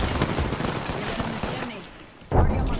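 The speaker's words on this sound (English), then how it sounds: "Grenade." Grenade blast in the Apex Legends video game, a sudden loud burst cutting through busy gunfire and battle noise, with a voice speaking underneath.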